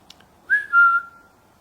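Two short whistled notes, the second a longer steady tone sliding slightly downward, clear and fairly close in a quiet room.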